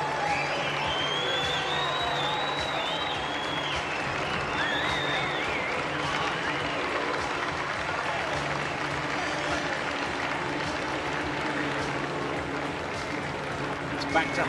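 A London crowd applauds and cheers runners along the course of a 10km road race that starts and finishes in Hyde Park; steady, dense clapping and crowd noise runs throughout, with voices mixed in.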